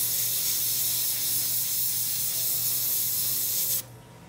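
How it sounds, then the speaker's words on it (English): An airbrush sprays gunmetal paint onto a model in a steady, close, loud hiss that runs unbroken for nearly four seconds, then cuts off abruptly as the trigger is released. "So we'll continue spraying this gunmetal and then move on to tackling the bone."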